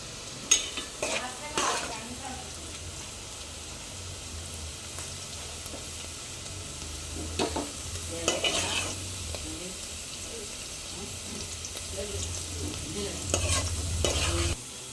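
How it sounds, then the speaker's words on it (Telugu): Onion pieces frying in oil in a pan for a Telugu bitter gourd curry, a soft steady sizzle with intermittent stirring scrapes and occasional utensil clinks, close by. "అదే ఆయిల్లో ఉల్లిపాయ ముక్కలు వేసుకుని చక్కగా ఎర్రగా మగ్గించుకుందాము"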